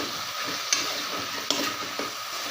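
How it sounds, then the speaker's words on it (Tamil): Steady sizzling of food frying in a pan, with a few soft clicks of a spatula stirring, close up and continuous. "இப்போ இது நல்லா வதங்கட்டும்"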